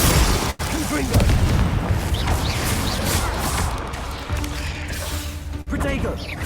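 Repeated fiery blasts from the Confringo spell in Hogwarts Legacy, a loud, dense run of booms and crashes filling the whole stretch with a steady roar and brief gaps between impacts.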